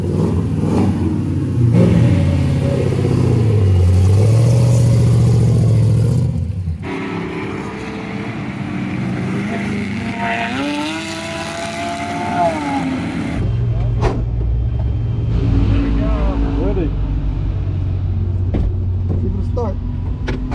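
A Camaro with an LS2 stroker V8 on the track at Virginia International Raceway, heard from inside as a loud sustained engine roar that rises and shifts pitch with acceleration while people talk over it.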